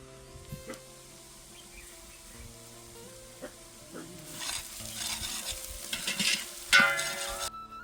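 Green onion and green garlic dropped into a hot pan for a Gujarati green pigeon pea recipe, frying with a soft sizzle and stirring scrapes that build up over the second half.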